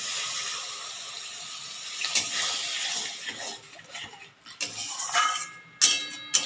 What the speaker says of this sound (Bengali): এবার আমি গ্যাসের আঁচটা জোরে করে দেব এরপরে আমি জল ঢেলে দেবো